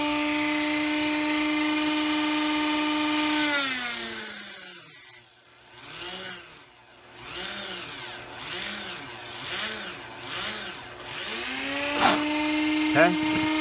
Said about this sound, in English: It hooks to your Dremel tool, which is over here permanently mounted to the side of my bench.